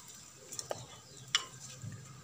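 Dried fenugreek dropped into frying onions in a village-style aalu matar pan, a quiet sizzle with a few sharp clicks and taps of the spoon, close and without talking.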